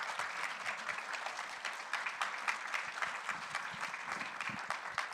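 An audience at a Women, Peace and Security panel event applauds the panel with steady, dense clapping that holds evenly throughout, moderately distant and without voices over it.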